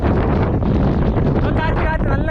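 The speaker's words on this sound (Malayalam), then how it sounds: "കാറ്റ് നല്ല കാറ്റ്, നല്ല കോട അടിച്ചു കയറി വരുന്നത്." Strong gusts on a misty hilltop near the Karnataka border at Thirunetti batter the microphone in a loud, close, continuous roar, with a voice faintly rising through it near the end.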